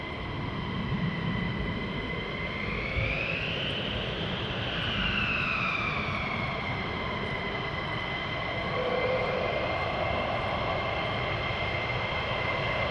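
A military jet departs RAF Mildenhall, a loud continuous engine roar with rising and falling whining tones that swell and shift as the aircraft climbs away, steady throughout and without speech.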